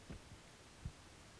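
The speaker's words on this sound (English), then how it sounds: "I hear a heartbeat." Faint, muffled heartbeat thumps sound in a paranormal house video game, a few soft low beats spaced apart over a quiet hum.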